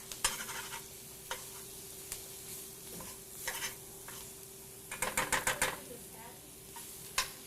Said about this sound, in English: So we're just browning the meat and kind of making it into crumbles.